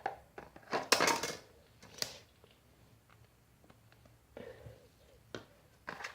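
Glue stirred with a utensil for milky slime, a few soft scraping and tapping bursts against a container, close and quiet, with long quiet gaps between strokes.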